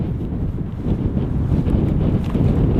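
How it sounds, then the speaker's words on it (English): Strong, cold wind buffets a microphone outdoors near Queenstown Airport, a loud low rumbling roar that gusts steadily throughout. "It's too windy now and cold."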